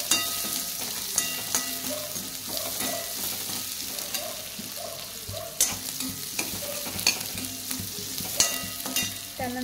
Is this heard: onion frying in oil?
yes